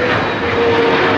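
A large jet airliner roars at Toronto Pearson airport, a loud, close, steady engine rumble with a thin sustained whine riding on top, with no speech.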